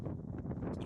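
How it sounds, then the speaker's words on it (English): Wind blows outdoors and buffets the microphone in a low, steady rumble lasting about a second, with no talking. "and it is windy"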